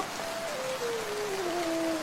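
Steady rain hisses evenly throughout, with a faint, thin whistling tone that slowly glides downward over the wash of falling water.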